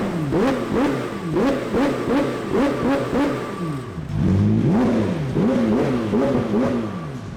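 A McLaren 720S with a new exhaust system revs in quick, rhythmic bursts up close, each blip rising and falling, then a deeper, longer series of throttle stabs follows.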